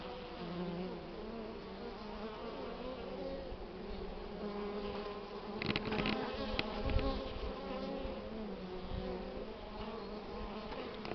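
Honeybees carrying hazel pollen fly around their hives in early spring, giving a dense, continuous buzz of many insects close by, with a brief swell as some pass near.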